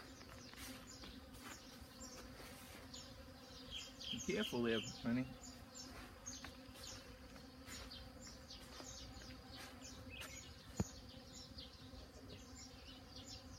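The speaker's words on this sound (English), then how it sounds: "I didn't have this many bees flying the last time." Bees buzz steadily around a hive during oxalic acid vaporization, a close swarm hum that continues throughout, with a brief spoken remark partway through.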